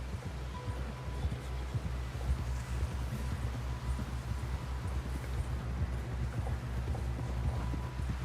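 Horse hooves clip-clop steadily in a fast run through Red Dead Redemption 2, a continuous rhythmic pounding held close over a low rumbling backdrop for the whole stretch.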